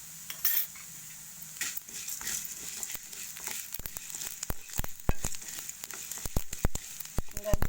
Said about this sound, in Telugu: ఇప్పుడు ఒక చెంచా జీలకర్ర వేసుకున్నాం.